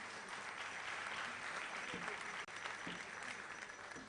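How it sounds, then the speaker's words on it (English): Applause from an audience for the finalists of a schools quiz grand finale, steady and dense for about four seconds, at a moderate level with a brief dip midway. "Please, a round of applause for all the finalists and how far they've come"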